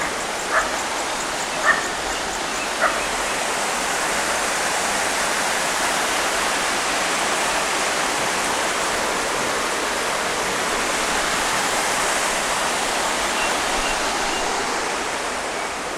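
Water pours from a small mountain dam through a pipe on a trail near Alhaurín el Grande, a loud steady rushing that fills the whole stretch, with a few dog barks near the start.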